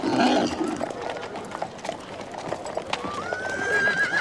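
A horse's hooves clip-clop at a run amid busy, crowded noise, with a loud whinny near the start and a rising neigh-like tone toward the end, while people talk over it.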